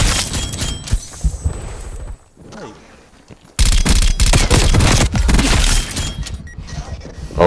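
Loud gunfire in Call of Duty Cold War comes in heavy bursts, stops briefly for a quieter stretch, then resumes with dense, close shooting and crashing impacts.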